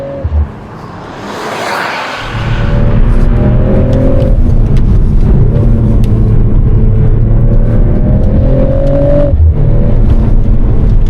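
A Mercedes-AMG CLE53 Coupe cruising down the road, its engine droning loudly and steadily with rising and falling tones as it pulls through the gears, tire and wind roar underneath.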